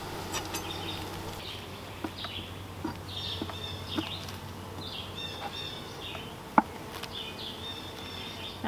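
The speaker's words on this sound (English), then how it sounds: "And there are a lot of bees down here." Honeybees buzz around an opened hive box during an inspection, a soft, continuous hum with occasional faint taps and clicks of frames nearby.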